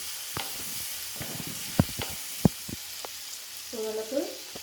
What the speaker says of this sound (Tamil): வெங்காயத்தை ஒரு 3 மினிட்ஸ் வதக்கிக்கிட்டே இருங்க.